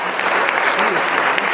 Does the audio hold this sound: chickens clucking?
no